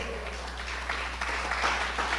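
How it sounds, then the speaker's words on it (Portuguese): A church congregation applauds the Lord during a Brazilian service, a steady mid-level wash of clapping that builds slightly, over a constant low hum. "você pode aplaudir ao Senhor."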